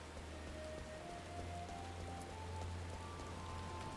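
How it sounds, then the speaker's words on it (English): Steady rain pours down in Final Fantasy XIV, a dense, even hiss of drops pattering on surfaces that holds without a break, with a low hum beneath it and no voices. "It's not as terrible the rain over here."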